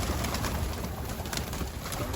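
Pigeons coo softly and continuously on a rooftop against a steady background hum, several birds murmuring at once with no talking.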